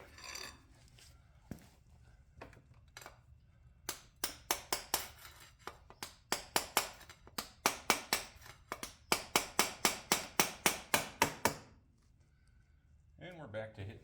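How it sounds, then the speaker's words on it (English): A hammer strikes a wooden pallet in a workshop, with a few scattered knocks and then a long run of sharp, loud, rhythmic blows that stops abruptly before a voice speaks at the very end. "And we're back to hitting the pallet."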